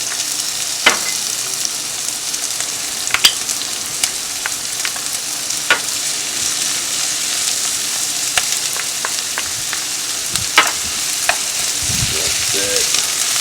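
Onions, celery and peppers sweat in a pan for jambalaya, giving an even, moderate sizzle throughout with occasional sharp pops and a few utensil scrapes near the end, with no speech.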